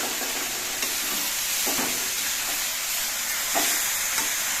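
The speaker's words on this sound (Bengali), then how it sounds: "অল্প কিছু চাল কুমড়ো দিয়ে আগে মেলে করে মিশিয়ে নিচ্ছি" Prawns and ash gourd frying in a pan, a constant loud hiss of sizzling oil with a few soft stirring scrapes at intervals, close and unbroken.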